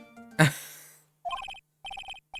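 A phone in the Ace Attorney video game rings in crisp electronic bursts of repeated chirping tones, following a sharp opening hit, and the bursts come back at regular intervals with silence between them.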